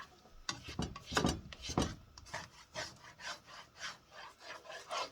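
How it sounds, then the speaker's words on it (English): A spatula scrapes and scrambles eggs in a pan, making a run of close, soft rhythmic scraping strokes, some louder than others, with no talk. "So I'm just gonna try to scramble it up with my spatula."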